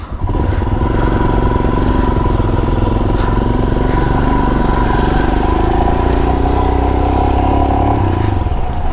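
A motorcycle at the start of a long ride toward Ladakh runs with a loud, steady engine drone close by, holding a constant rumble throughout with no speech over it.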